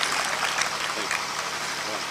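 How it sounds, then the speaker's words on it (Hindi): A crowd claps steadily at a Hindi poetry gathering, a dense wash of applause that fills the moment without pause, with voices faintly mixed in. "जोरदार तालियां बजती रहनी चाहिए"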